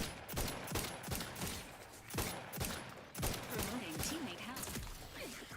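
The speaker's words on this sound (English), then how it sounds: "let's try out this new rifle" Rifle fire in a video game, a run of sharp shots in quick irregular bursts and rapid volleys that stay fairly loud, with a voice talking faintly underneath.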